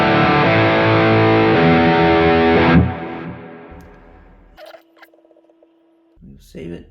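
Heavily overdriven electric guitar tone from a Quad Cortex amp model, with the preamp and power amp pushed hard, rings loud and sustained, then decays into quieter picked notes and faint noises.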